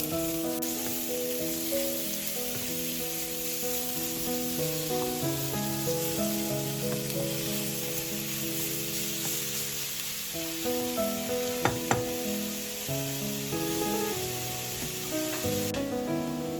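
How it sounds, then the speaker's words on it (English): Pork belly browning in a hot pan gives a steady, dense sizzle and frying hiss throughout, close and even, with a couple of faint clicks near the end and no talk. "we just have to add our pork in, let that cook, let it brown for a bit"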